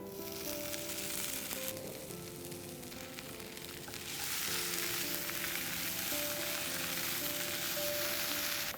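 Chopped salami fries in a pan with golden-browned potatoes, onions and garlic, a continuous crackling sizzle that grows louder and brighter about halfway through, with faint stirring underneath.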